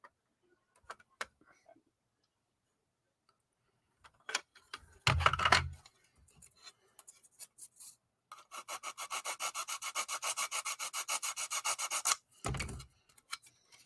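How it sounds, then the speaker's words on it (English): Scattered taps and scrapes give way to a long run of rhythmic, rasping strokes, like sandpaper rubbed back and forth by hand, fairly close. "Baby steps of sanding"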